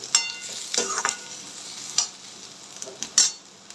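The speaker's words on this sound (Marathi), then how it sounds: "आता ह्याच्यामध्ये आपण पनीर फ्राय करून घेतलेलं ते ॲड करायचं आहे मिक्स करून घ्यायचं आहे व्यवस्थित" Fried paneer being stirred into vegetables in a pan for hotel-style chilli paneer fried rice, with a few scraping stirs and soft sizzling bursts heard up close, no talking.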